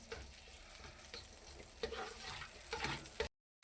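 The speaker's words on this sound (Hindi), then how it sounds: "अब करेंगे हम इसको फ्राई। इसको सुनहरा हमने करना, सुनहरा फ्राई" Sliced onions fry in a hot pan for moong dal khichdi, a steady close sizzle with stirring scrapes that ends abruptly.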